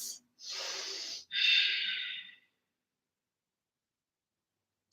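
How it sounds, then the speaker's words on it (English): Two strong, breathy exhalations through the nose during a balancing yoga pose, the second longer, followed by quiet. "Deep breaths."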